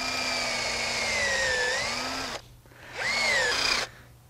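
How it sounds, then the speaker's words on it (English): A power drill bores a tap hole at an upward slant into a maple tree, a loud whining motor pitch that rises as the bit bites, stops briefly, then runs again for a shorter second burst. "we're drilling on an upward slant of about 10 or 15 degrees to our mark"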